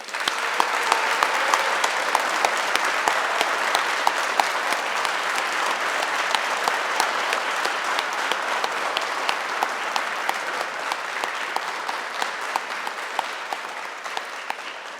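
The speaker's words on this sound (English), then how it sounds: "applause." A large audience at a police department promotion ceremony gives newly promoted officers a sustained round of applause, dense and steady clapping filling the hall for the full length with no voices over it.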